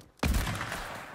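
Gunfire in the Fortnite video game: a single sharp shot bursts in abruptly and decays into a loud, sustained rumble that slowly fades.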